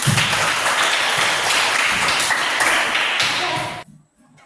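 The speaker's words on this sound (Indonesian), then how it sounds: "Tepuk tangan." Classroom applause from a group of students in a teacher training session, a dense burst of clapping that holds steady and then stops abruptly near the end.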